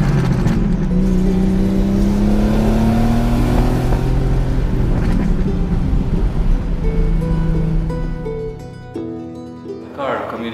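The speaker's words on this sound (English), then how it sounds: "you feel the whoosh of the turbo" A Porsche 930 Turbo with no electronic aids pulls hard under loud sustained engine roar, rising in pitch through acceleration before easing off near the end, with a turbo rush carried in the noise.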